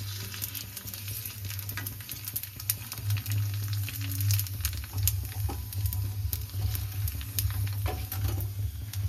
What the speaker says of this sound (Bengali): গরম তেল আছে জোরে ফুটছে, তাই না?